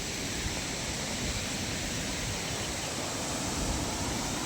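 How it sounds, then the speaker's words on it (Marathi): A waterfall pours into a rain-fed valley, giving a steady, dense broadband rush of falling water that holds constant and fairly loud throughout, with no voices. "आता आपण आलेलो इथे हा एक वॉटरफॉल आहे"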